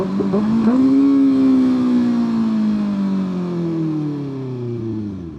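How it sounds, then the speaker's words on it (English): A 2025 Kawasaki ZX-6R downshifting from fourth to first at a red light: loud, close engine with sharp rev-matching blips, then a long falling whine as the revs drop gear by gear. "now let's downshift. From fourth all the way to first, because it's a red light."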